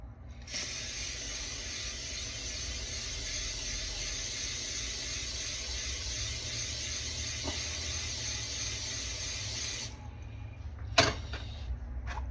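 A continuous aerosol hiss of cooking spray onto a pan for honey-glazed salmon runs for about ten seconds, then stops, followed by a couple of clanks from the pan.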